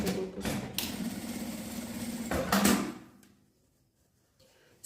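A sewing machine runs in a steady close whir broken by brief clunks, then stops and falls nearly silent before a faint restart at the end.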